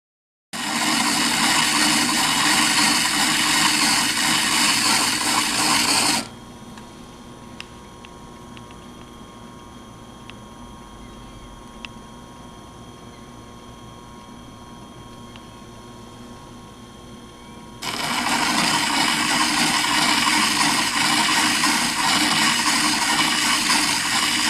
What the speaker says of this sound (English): At this stage, we are using a fairly coarse 180 grit diamond lap that leaves a frosted-looking surface